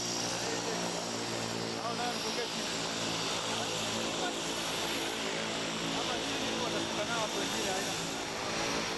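A small propeller airplane used for a passenger journey in Tanzania, its engine droning steadily and loudly at close range throughout, with a dense, constant buzzing hum and no break.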